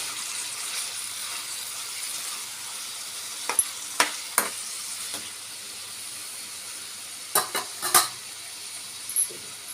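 Tomatoes fry steadily in a pan for Andhra-style tomato chutney, a continuous soft sizzle with a few sharp scraping clicks of a spoon stirring, clustered near the middle and end.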